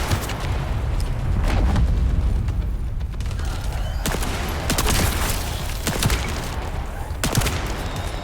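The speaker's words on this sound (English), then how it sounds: "So that hand cannon hit that dude for 100k." Heavy hand cannon fire in the looter-shooter game The First Descendant, several loud sharp booming shots spaced a second or two apart over a dense rumble of battle noise and explosions.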